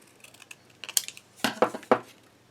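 Paper is cut for a large scrapbook album, a quick series of soft crisp snips and rustles that build to a few louder cuts near the end.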